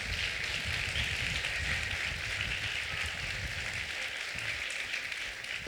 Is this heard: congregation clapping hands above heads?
yes